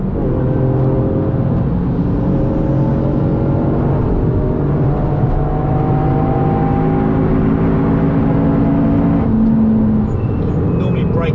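A Toyota GR Yaris engine drones steadily as the car laps the Nürburgring Nordschleife, with rising and falling engine tones running throughout under ongoing conversation between two people inside.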